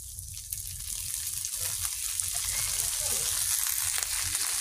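Onions fry slowly in oil over a traditional clay stove, with a soft, even sizzle and light stirring that build steadily at close range.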